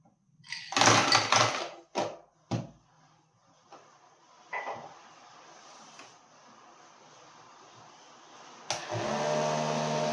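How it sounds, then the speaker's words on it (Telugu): A homemade air cooler's small electric motor and fan give a few short loud whirring bursts, then quiet, then a steady close motor hum at the end. "ఈ మోటార్ స్పీడ్ అయితే చాలా బాగుంది."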